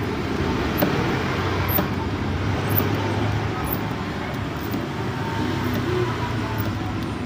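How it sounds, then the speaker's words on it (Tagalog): Night road traffic near a roadside workshop, a steady broadband rumble of passing cars and larger vehicles, continuous and moderately loud with no clear individual pass-bys standing out. "Ingay na yung mga sasakyan mga idol pag ganito kasing gabi na dito sa amin"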